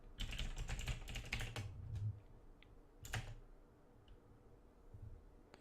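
Keys clattering on a computer keyboard while a Linux install command is entered, a quick burst of close clicks followed by a few sparse keystrokes, moderately quiet with no talking.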